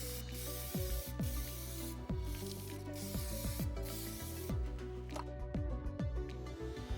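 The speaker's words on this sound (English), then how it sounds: "put some spray glue on the back of it." Spray glue hisses from an aerosol can onto the back of a sheet of black A4 card in a continuous close, faint spray with small clicks and shifts throughout.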